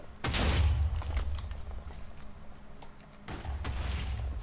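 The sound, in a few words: explosion in the video game Minecraft (modded)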